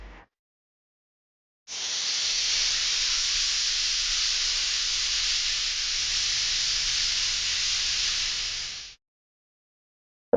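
A pressure cooker boiling karamani lets out a steady, loud, broadband steam hiss that starts abruptly, holds for about seven seconds and then cuts off, with near silence before and after.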